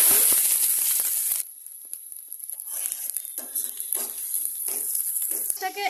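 Chopped onions hit hot mustard oil in a pan, sizzling and crackling in uneven bursts after a louder opening splash, fairly close and steady throughout.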